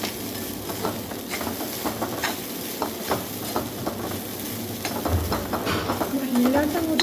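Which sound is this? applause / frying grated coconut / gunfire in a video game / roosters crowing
frying grated coconut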